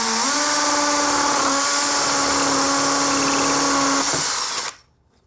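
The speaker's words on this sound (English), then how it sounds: "No need to push, the drill work does it" A hammer drill bores a hole into a brick wall with a loud, close, steady whine and grinding rattle, which holds for about four seconds before the motor winds down and stops into silence.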